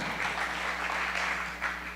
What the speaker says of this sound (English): Where is my director, Andrew? Give him a clap.